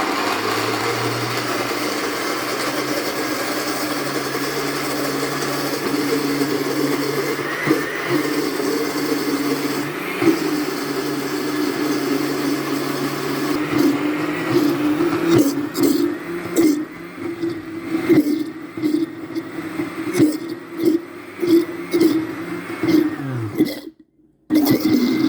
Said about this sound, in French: Alors ça, c'est un petit mixeur que j'ai acheté